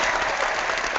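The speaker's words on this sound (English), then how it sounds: "Everybody deserves another round of applause" A brief burst of dense audience clapping at the finale of a design competition, steady and close for about a second with no talking.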